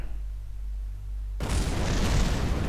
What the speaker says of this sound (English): The explosion we just heard, and we are not able to see, was our interplanetary stage.